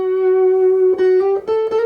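Taylor T5 guitar played through a Rivera electric amp with a volume pedal: a sustained clean note rings steadily, then a few quick picked notes follow near the end, close and fairly loud with no talking.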